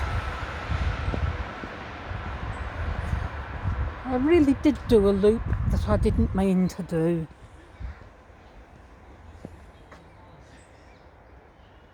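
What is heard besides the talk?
train passing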